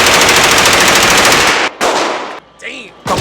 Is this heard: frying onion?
no